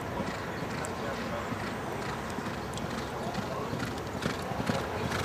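Hooves clip-clop steadily on the Bowie training oval as racehorses jog, a continuous patter mixed with voices talking in the background.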